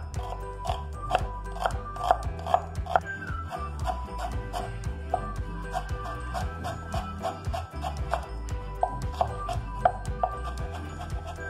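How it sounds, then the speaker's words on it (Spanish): A knife finely chopping onion, tomato and chilies on a board for pico de gallo, with quick, steady chops repeating throughout over a constant tonal background. "Ocupamos picar todas nuestras verduras, que en este caso es la cebolla, el jitomate y los chiles, finamente"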